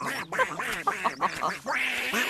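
A rapid series of loud, nasal duck quacks, several in a row, close and overlapping like a squabbling group.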